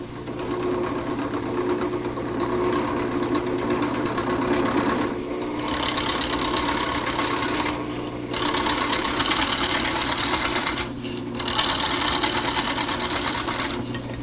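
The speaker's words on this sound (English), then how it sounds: "I'm going to start the turning by using this skew chisel to just score it right at the line" Wood lathe spinning steadily while a skew chisel scores a line in the turning blank, a loud continuous motor drone with brief dips and bursts as the cutting edge contacts the wood.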